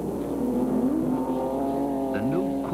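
The new Questa race car charges through the rain on wet BF Goodrich tires, its engine roaring steadily close by and rising in pitch near the end, with someone talking over it.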